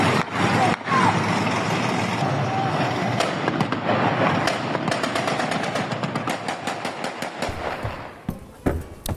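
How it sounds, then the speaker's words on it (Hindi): Celebratory gunfire from people riding on a tank during a celebration, rapid sharp bursts of shots crackling loudly and continuously, thinning toward the end. "टैंक पर सवार होकर फायरिंग करते हुए नजर आ रहे लोग, जरा आप देखिए।"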